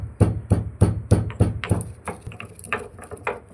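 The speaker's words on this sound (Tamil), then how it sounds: "மிளகு கொஞ்சம், சுக்கு கொஞ்சங்க, தனியா கொஞ்சம் நசுக்கும், நல்லா நசுக்கும்." Pepper, dry ginger and coriander seeds are crushed by hand for a home cold remedy, with about six heavy, evenly spaced pounding thumps followed by lighter, irregular knocks.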